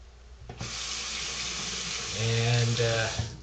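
Running tap water splashes steadily onto a nickel Yaqi Flipside safety razor head as it is rinsed, a close, continuous hiss with a brief lower gurgle toward the end.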